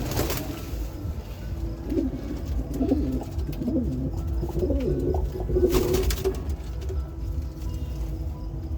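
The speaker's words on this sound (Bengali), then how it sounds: "পায়রা দুটো এক জায়গায় ছাড়ছি দেখুন" A pair of large pigeons coo close by at home, low throaty rolling calls repeated through the clip over a soft background rumble.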